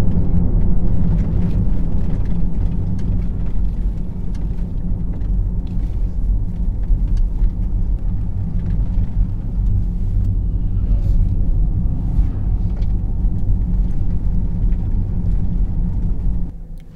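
A 2023 Mercedes-AMG EQE 43 electric car launches and accelerates hard, giving a steady loud low rumble of road and motor noise that holds without a break before dropping away at the end.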